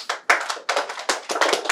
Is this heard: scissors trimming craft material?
no